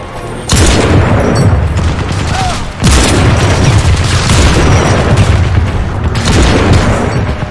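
Sustained automatic gunfire in the shooter game Crysis Remastered, a loud, dense stream of rapid shots that breaks briefly and then resumes just as intensely.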